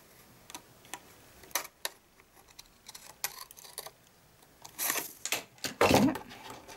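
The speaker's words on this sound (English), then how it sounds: "get my sharp scissors for this" Sharp scissors snip paper in irregular crisp clicks, sparse at first, then a quick flurry of louder cuts close by.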